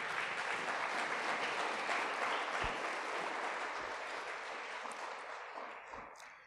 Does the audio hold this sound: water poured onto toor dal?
no